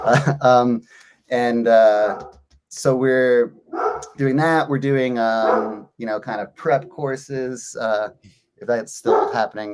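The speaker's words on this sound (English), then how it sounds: "Sorry for my dog." A dog barks in the background of a home video call, short yips and barks mixed under steady conversational speech from someone talking throughout.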